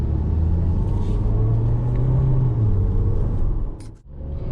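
Stock Acura RDX Turbo pulling into a used car lot, heard as a steady low engine rumble and road noise from inside the cabin that dips briefly near the end.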